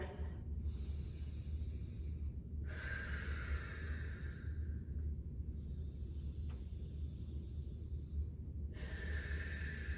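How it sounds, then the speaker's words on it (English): Slow, deep breaths drawn in and let out during a stretch, alternating airy inhales and exhales in a steady rhythm over a low background rumble, close and fairly quiet, with no talking. "deep breath"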